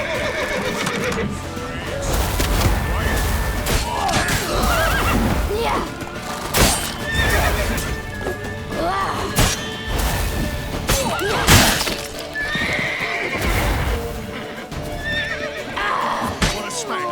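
Horses neighing and whinnying amid galloping hooves in The Witcher 3: Wild Hunt, with crashes and shattering during a chaotic fight; shouted voices run over the loud, busy mix.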